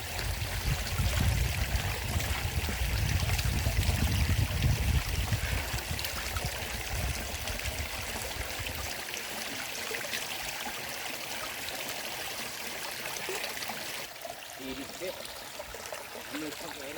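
A cold, clear stream flows through dense forest on a trek in Idukki. It makes a steady, continuous rush of running water, fuller and louder at first and then slightly thinner.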